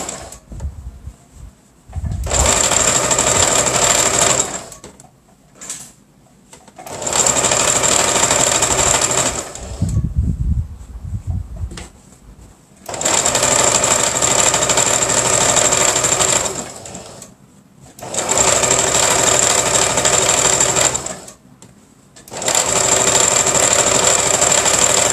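Sewing machine stitching a straight seam on a fabric eco-bag wallet, running in five loud, steady whirring bursts of a few seconds each, separated by brief pauses and soft handling noises.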